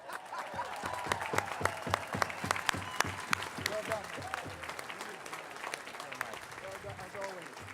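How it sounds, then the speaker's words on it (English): An audience at a July 4th Declaration of Independence reading at the National Archives breaks into a burst of loud, dense clapping that thins into scattered claps, with voices heard faintly in the crowd. "Another round of applause."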